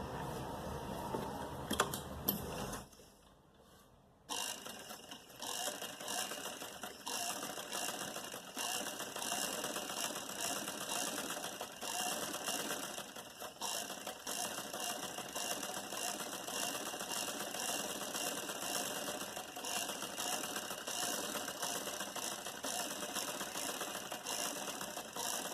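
A sewing machine runs a continuous stitching seam across folded cloth, a steady mechanical whir heard up close for most of the clip after a brief pause near the start, with no talking.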